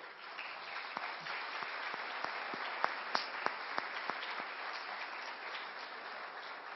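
An audience at a moderated question session claps in tribute. The applause is steady and fairly faint, with a few sharper individual claps standing out near the middle before it thins toward the end.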